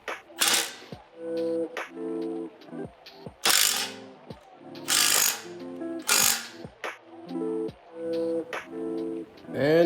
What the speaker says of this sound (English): Get yourself a good impact with the proper socket. Go to town on it